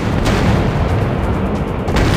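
Guns fire at a bomber in a WW2 warplane video game, a dense, loud stream of booming shots and blasts close up with no talk.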